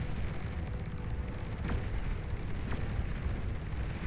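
Thor EMP missile strike in the strategy game Beyond All Reason, heard as a dense, rumbling barrage of explosions and booms with a couple of sharp sweeping streaks, loud and continuous.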